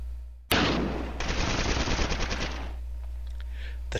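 Tanks in a town open fire in a war strategy game battle, a sudden loud blast followed by a rapid burst of repeated gunfire, then fading echoes and scattered distant shots.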